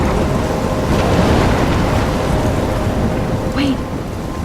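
A loud, roaring thunderstorm in the video game Life Is Strange rumbles continuously with heavy rain and wind, dense and close throughout, while a voice briefly speaks over it near the end.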